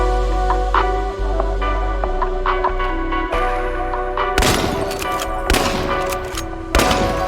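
Shotgun blasts in the video game Chernobylite. A few sharp, loud shots crack out over a droning ambient game soundtrack, spaced irregularly.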